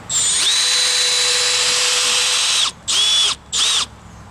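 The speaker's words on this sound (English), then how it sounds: "I'm going to put in one of the screws." A drill driver set to clutch 7 drives a deck screw into a deck board, a loud steady whine for almost three seconds, then two short bursts as the screw is finished, with no talk.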